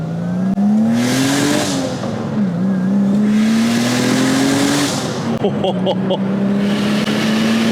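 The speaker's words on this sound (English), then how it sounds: "All the turbo noises." A turbocharged BMW E30 wagon engine revs hard and loud, its pitch climbing and falling in long sweeps with a whooshing turbo hiss, plus a brief flutter of clicks near the end.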